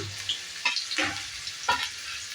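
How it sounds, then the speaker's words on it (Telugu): Two large onions, thinly sliced, sizzling in a pan, with a soft steady fry and a few brief scraping stirs, close and quiet, no talking. "కొద్దిగా కలర్ చేంజ్ అయ్యేదాకా ఫ్రై చేసుకుందాం ఆనియన్స్ని చూడండి"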